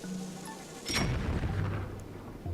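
A bomb explodes in the video game Zelda Skyward Sword, a single sharp boom followed by a low rumbling decay, loud and close.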